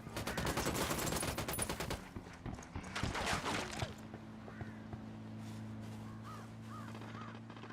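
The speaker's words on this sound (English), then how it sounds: "Firing." Gunfire in Tom Clancy's Ghost Recon Wildlands erupts as a dense, loud burst of rapid shots for about four seconds, then gives way to a low steady hum with faint scattered sounds.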